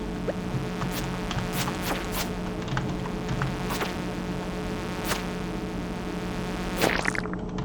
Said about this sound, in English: Oh shoot, now bugs are coming.